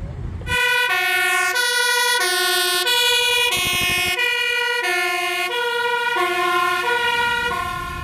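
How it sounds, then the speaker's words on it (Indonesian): A toy fire truck siren blares loudly and steadily, a bright electronic two-tone wail repeating close by without pause. "wih mobil pemadam kebakaran"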